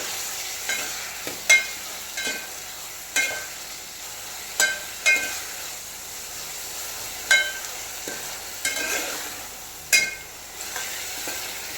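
Tomato, onion and green chilies frying in a pan, a steady soft sizzle broken by regular scraping stirs and light clinks of the utensil against the pan.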